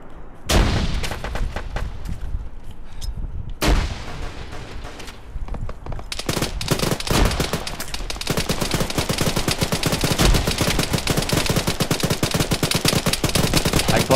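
Gunfire and a grenade blast in a combat video game, with heavy sustained automatic fire and sharp single shots after an opening burst, loud and dense throughout, with no talk over it.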